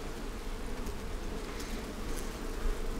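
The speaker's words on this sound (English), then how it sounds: "That might have been a bigger swarm than the actual one that went in the box I wanted to go in." A swarm of honeybees drones in a farm shed, a dense, steady buzz filling the space at close range with no voices.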